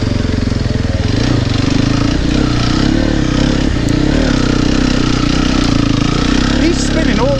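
A four-stroke enduro motorcycle labours up a slippery hard-enduro trail, its engine a loud, close, continuous low drone with slight shifts in revs throughout.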